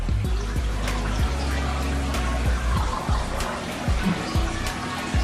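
Water trickles and dribbles into a pan in a light, steady stream, with small clinks and splashes close by.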